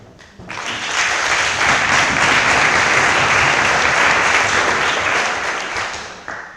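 Sustained audience applause fills a congress general assembly hall, many hands clapping densely and steadily for several seconds before tapering off at the end.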